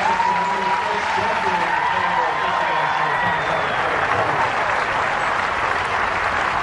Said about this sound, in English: a standing ovation from this huge crowd here at the casino